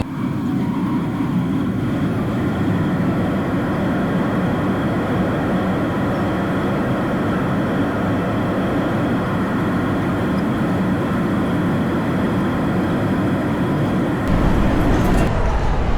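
Steady, loud airplane cabin roar during a flight to Singapore, a dense low rumble and hiss holding constant throughout, shifting slightly louder and fuller near the end.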